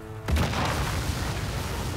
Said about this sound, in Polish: Czekamy na wybuchy.